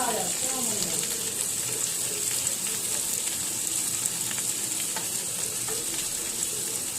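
Ground turmeric and cumin fry in a hot pan while being stirred, a close, continuous sizzle with scraping and stirring sounds running throughout.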